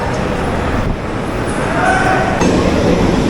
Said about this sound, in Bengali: ট্রেন এখন সাত নম্বর প্ল্যাটফর্ম থেকে বেরোচ্ছে আটটা বিয়াল্লিশের বনগা লোকাল